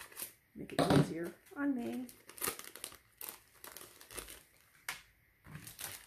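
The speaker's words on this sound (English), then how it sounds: "I'm just going to cut this open." Crinkly plastic packaging on a Kiwi Lane club kit rustles and crackles in short bursts while scissors cut it open, with a person briefly speaking over it.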